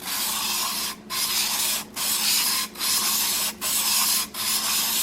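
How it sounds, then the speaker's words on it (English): Single bevel broadhead edge stroked across a 1200 grit stone, five or six even hissing passes with short pauses between them, close and alone. "Now we're using 1200 grit to break off the 1200 grit burr."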